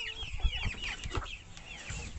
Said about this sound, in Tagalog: Eto naman yung mga manok ng tatay ko. Mga manok na pula.